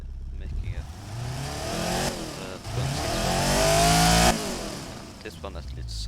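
In the video game Automation, a sport van's engine revs hard. The tone climbs in a rising sweep, holds at a loud, strained peak for a few seconds, then cuts off sharply and settles back to a low idle.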